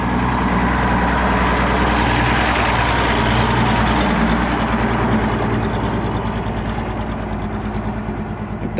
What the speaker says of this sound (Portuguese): Rapaz, vê um caminhão aí.